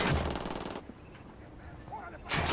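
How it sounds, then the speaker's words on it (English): Gunfire and a grenade blast in the video game Ghost Recon Wildlands: two loud, dense bursts of shots and explosion open and close the moment, with a quieter gap between them. "I'm gonna throw a grenade."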